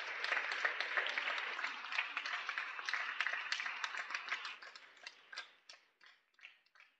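A church congregation at an adoration worship service claps loudly together, a dense steady roar of hands that thins into scattered individual claps before fading out.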